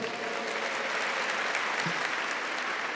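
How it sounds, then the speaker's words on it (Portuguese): Dense applause from an audience at a religious talk, steady and continuous throughout with a few sharper claps standing out. "Uma salva de palmas para vocês."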